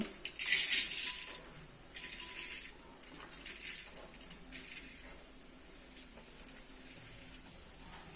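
Biryani rice grains poured into a pressure cooker, a dry rattling, clinking patter that comes in a few bursts over several seconds, fairly faint and close.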